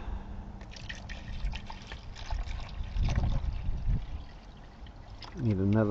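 Fresh water pouring from a bottle at a pasture campsite while making coffee, a steady liquid splash and trickle ending in a rising filling tone as the container fills, close by.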